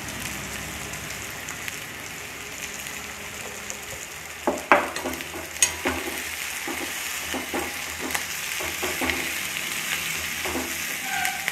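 Onions sizzle and crackle in a hot pan for wheat rava upma, a steady frying hiss with scattered sharper pops and stirring clatter partway through, no talking.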